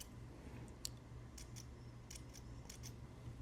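Small scissors snip fly-tying material into a taper, giving a quick run of faint, crisp clicks spaced irregularly over a soft, quiet background.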